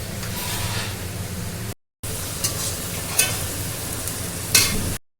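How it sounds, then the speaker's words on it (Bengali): Onions frying in oil as a base for a home-cooked meat curry, a steady close sizzle with occasional stirring scrapes and crackles, broken by a short silent gap. "এখানে মাংসর জন্য পেঁয়াজ ভাজা হচ্ছে।"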